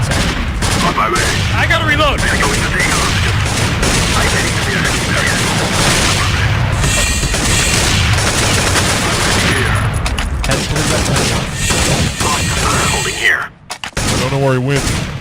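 Sustained, dense gunfire from Counter-Strike 1.6 on the cs_midnight_assault map, loud and continuous with overlapping shots and bursts, while radio-style voice callouts play over it; the firing drops out briefly near the end.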